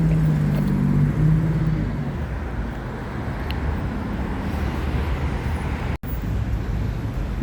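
Heavy road traffic with cars and buses passing makes a loud, continuous roadside rumble and wash of engine noise, steady throughout with a brief dropout near the end.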